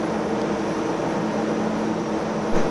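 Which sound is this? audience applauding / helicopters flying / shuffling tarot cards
helicopters flying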